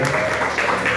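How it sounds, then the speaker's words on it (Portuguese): A church congregation claps together during a lively worship service, a brief burst of dense clapping heard up close and loud beneath sustained tones and a voice. "E as palmas são para o Senhor."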